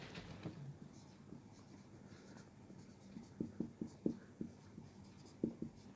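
Chalk or marker writing a word equation on a classroom board: a series of short, sharp taps and scratches bunched together, fairly near but soft, with faint room noise between strokes.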